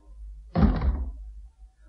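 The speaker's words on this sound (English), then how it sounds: "Go out and close the door." A door closes with a single solid thunk, close and short, against a quiet low hum.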